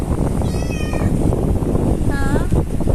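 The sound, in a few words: cat meowing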